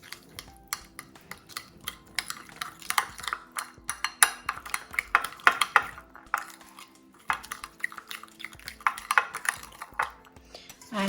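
A spoon clinks and scrapes against a bowl in irregular bursts while cauliflower is mixed with salt, black pepper and olive oil, the metallic taps crisp and close.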